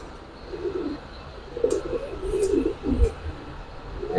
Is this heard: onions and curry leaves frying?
no